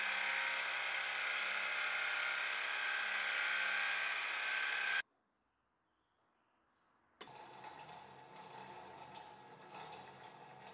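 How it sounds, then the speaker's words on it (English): An end mill cuts a slot in brass with a loud, steady machining whir, stops briefly into near silence, then resumes at a lower, rougher level. "Using a 1/8 inch end mill, I milled out a slot a thou or so over the thickness of the blade stock."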